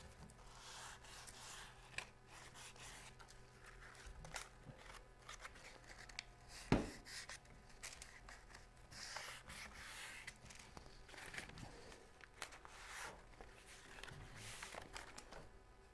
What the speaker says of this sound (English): We can move on to step 2. Which is sand the popped grain.